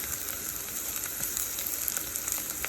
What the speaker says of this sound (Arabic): هذا بصل بالزيت خليته يحمر